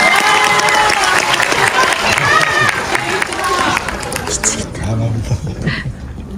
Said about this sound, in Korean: 작가님을 박수로 모시겠습니다